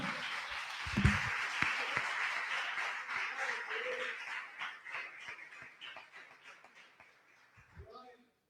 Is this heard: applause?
yes